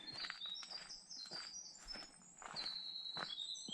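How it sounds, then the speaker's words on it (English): A wren sings on a mountain trail, bright high trilling phrases repeating every second or so at moderate distance, with faint footsteps crunching underneath and no talking. "that bird had a lot to say. I think it was a wren."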